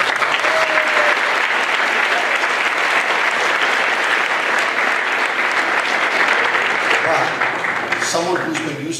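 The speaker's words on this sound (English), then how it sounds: "Harold, you can clap for him if you want." Loud audience applause breaks out at a recovery talk and holds steady and dense, tapering slightly near the end as a voice begins to come through.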